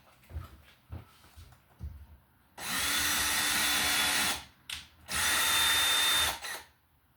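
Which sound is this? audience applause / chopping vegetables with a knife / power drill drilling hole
power drill drilling hole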